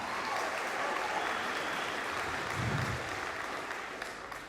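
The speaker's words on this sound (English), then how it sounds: "hold the applause to a small one because I need more time" An audience applauds at a U.S. House race debate, a sustained wash of many hands clapping at moderate distance that tapers slightly near the end.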